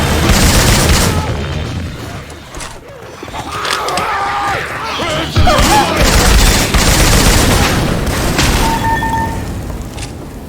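Syphon Filter weapon sound effects in Left 4 Dead 2: loud, rapid, continuous bursts of gunfire and booming blasts fill the whole stretch, with a brief lull in the middle.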